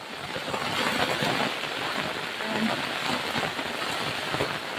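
Steady rain falls outdoors at a botanical garden in Singapore, a dense broadband hiss that holds even and fairly loud throughout, with faint murmurs of people beneath it.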